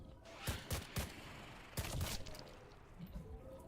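Gunfire in the shooter game Active Matter: several sharp shots spaced about half a second apart, then a burst with a longer crackling tail, over steady game ambience.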